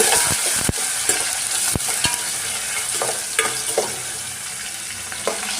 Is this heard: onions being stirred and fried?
yes